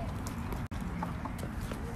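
A horse's hooves clip-clop in a steady walking rhythm at moderate distance, faint taps over background noise, with a brief dropout partway through and no talking.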